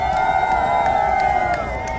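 A crowd at a Ukraine solidarity event in Montréal applauds a singer from Lviv, a steady dense wash of clapping and cheering held at one loudness throughout.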